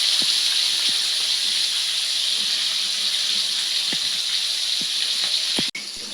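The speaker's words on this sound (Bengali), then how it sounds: "মা মাছগুলো ভেজে নিচ্ছে" Pieces of fresh rohu fish, rubbed with turmeric and salt, fry in hot oil with a loud, steady, close hiss and a few scattered soft pops throughout.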